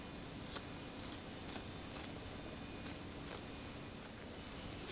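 Scissors snip threads on a lace wig in a series of small, quiet cuts spaced about half a second apart, set against a steady background hiss. No one talks.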